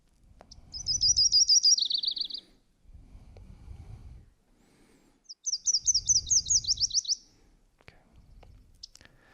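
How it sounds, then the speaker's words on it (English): Yellow-rumped warbler song, two clear bursts of quick high trilled notes separated by a pause, heard over faint low rumbling background noise. "here's just the yellow-rumped warbler's song"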